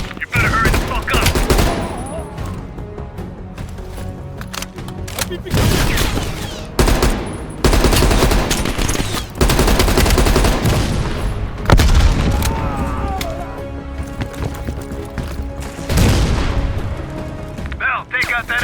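Machine gun fire and heavy explosions from the Call of Duty Black Ops Cold War campaign on PS5, loud sustained bursts of gunfire with booming blasts throughout, dense battle noise with voices speaking over it.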